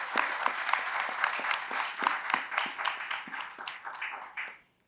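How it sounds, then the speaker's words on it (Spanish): A small group applauds, a burst of scattered claps that holds steady for a few seconds and then tapers off to silence. "Un aplauso para los becarios, por favor."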